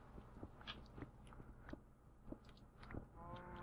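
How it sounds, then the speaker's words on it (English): Quiet, close crunching of someone eating crunchy chips, irregular bites and chews repeating over a faint background. "I hear you eating some crunchy chips."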